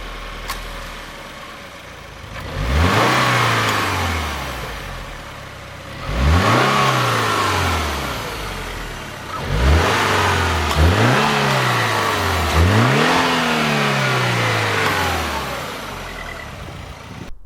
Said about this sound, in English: Now that we've heard how the engine sounds